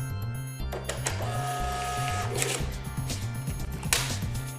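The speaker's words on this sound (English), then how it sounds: "I'll click Print Tickets." A Star Bluetooth receipt printer prints event tickets as an order receipt with a loud, close mechanical buzz. The buzz pulses rhythmically in short bursts with brief gaps.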